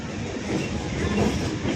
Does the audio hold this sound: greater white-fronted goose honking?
no